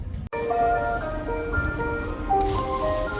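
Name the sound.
van driving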